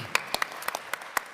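Sparse, scattered claps from an audience, about eight separate sharp hand claps spread unevenly across a moment, fairly close and moderately loud, with no sustained applause building up.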